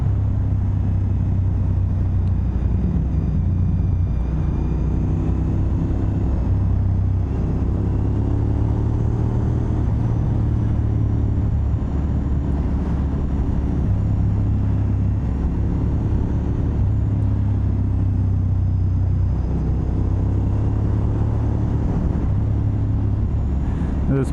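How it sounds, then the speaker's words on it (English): Big V-twin motorcycle engine rumbling steadily on a downhill mountain road, engine braking with repeated shifts in pitch, loud wind-buffeted drone throughout. "This bike being a big V-twin also has a fair bit of engine braking"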